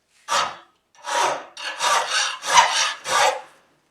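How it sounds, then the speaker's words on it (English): A metal file rasps along a Wearcote rod in five separate strokes, each a scratchy rub close to the microphone with brief pauses between. The strokes gradually run together toward the end. "So we will grab a file and see what it does."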